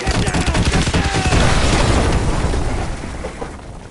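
Artillery shells from a danger-close fire mission in Call of Duty: Modern Warfare II Remastered slam down in a dense, rolling barrage of heavy booms and crackling blasts, loud and close, fading into rumble at the end.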